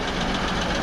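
A Deutz diesel engine runs steadily on a 4x4 heavy truck, a loud close mid-pitched drone with a faint knocking pulse and no voices.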